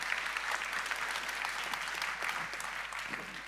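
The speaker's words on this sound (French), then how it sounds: "on l'applaudit" Steady crowd applause, moderately distant and even, a continuous patter of many hands clapping without pause.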